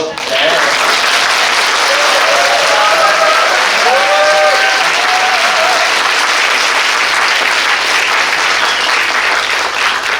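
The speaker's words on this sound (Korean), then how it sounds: "박수 소리 같은 경우에는 그래도 어느 정도 들을 수 있거든요. 그래서 큰 박수로" Audience at a welfare organization's program briefing for blind and deafblind people breaking into big, loud applause, dense sustained clapping throughout with a few voices briefly calling out over it.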